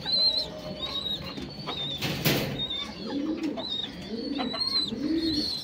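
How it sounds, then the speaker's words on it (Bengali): A restless pigeon held in the hand in a loft, giving soft low coos with a brief burst of wing flutter partway through, while other birds chirp and whistle nearby. "কবুতরটা অনেক ছটফট করতেছেন, ধরতেও পারতেছি না ঠিক মতো।"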